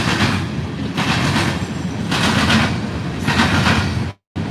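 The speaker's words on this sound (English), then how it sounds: "I've seen that train car before." Rumbling train cars roll steadily past close by, with rhythmic clattering surges of noise, cutting off abruptly near the end.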